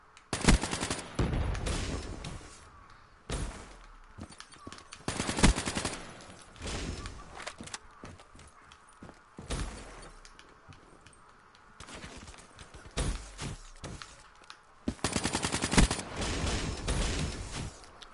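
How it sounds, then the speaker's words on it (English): Rapid bursts of automatic gunfire from a Black Ops 3 free-for-all match crackle in repeated volleys, loud and close, separated by brief quieter gaps. "I just keep hearing it, like freaking gunshots in the freaking back."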